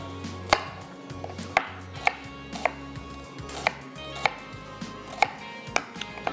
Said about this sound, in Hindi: प्याज को हमने करना है चॉप